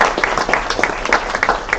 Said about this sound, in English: let's give a big round of applause to Miriam and all our speakers